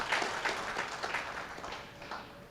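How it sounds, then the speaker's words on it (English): A business forum audience gives a round of applause for Fenway Sports Management and the Boston Red Sox, a steady, fairly soft wash of many hands clapping heard from a distance. "let's give a big round of applause to Fenway Sports Manager and the Boston Red Sox"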